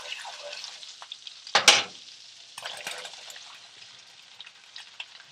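Baby bella, cremini and white button mushrooms hit a hot pan with a loud burst of sizzling, then settle into a steady crackling fry with light stirring, close by and alone.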